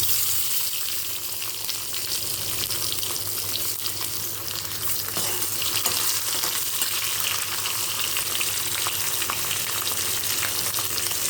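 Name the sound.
chopped tomato frying in a pan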